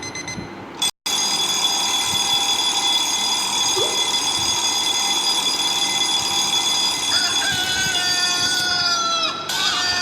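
A phone alarm ringtone for Android or iOS plays continuously and loudly. Its bright, buzzy electronic tones hold steady and shift slightly in pitch near the end, with a brief cut near the start.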